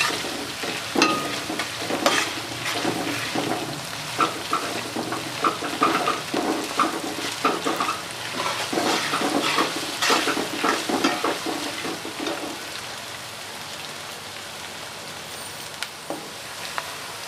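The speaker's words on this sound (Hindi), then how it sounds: "अदरक लहसुन डालेंगे। बिस्मिल्लाहिर्रहमानिर्रहीम। अच्छे तरीके से फ्राई करेंगे।" Onions with ginger and garlic frying in a pan: a continuous close sizzle with frequent scraping stirs and clinks of a utensil, busier at first and settling into a quieter steady fry toward the end.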